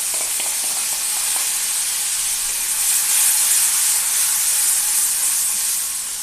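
Crushed green chillies hit hot oil already crackling with cumin seeds and asafoetida, giving a steady, loud, broad hissing sizzle that swells slightly midway and carries on without pause, with no talking.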